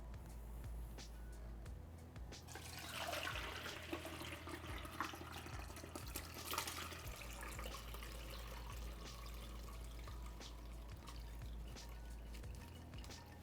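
Clear stock broth pours and trickles through four layers of cheesecloth, a soft watery stream with a few louder splashes, quiet and close under a low steady hum.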